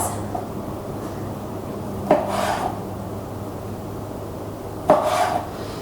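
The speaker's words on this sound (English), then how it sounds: "just going to go ahead and chop these little pieces" Small pieces of fruit being chopped on a board, two crisp knife strikes spaced a few seconds apart, each followed by a brief scraping rasp, close and quiet over a steady low hum.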